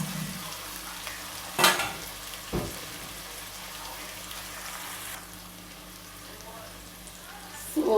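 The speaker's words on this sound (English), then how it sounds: "basically I'm going to cook the seasoning, otherwise called saute," Seasoning sautéing in hot oil for Jamaican brown stew grey angelfish, a steady broadband sizzle with a few louder stirring bursts, low background hum underneath and no talking.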